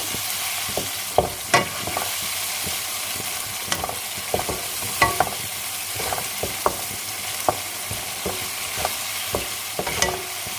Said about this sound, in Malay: Kita balik-balikkan dia supaya udang ni masak serata ya.